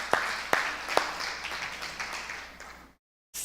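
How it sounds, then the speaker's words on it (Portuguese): Applause for a man named Márcio at a church gathering, a few sharp claps at first and then a brief, fading patter of clapping from a small audience before the sound cuts out. "uma salva de palmas para o Márcio"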